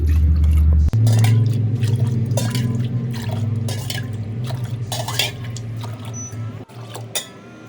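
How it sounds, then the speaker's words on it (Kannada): Water pours into a pressure cooker holding chana dal, a loud close splash and gurgle that gradually thins into drips and light metallic clinks. "ಹತ್ತು ಲೋಟ ನೀರು ಇದರಲ್ಲಿ ಹಾಕ್ತಾ ಇದ್ದೀನಿ"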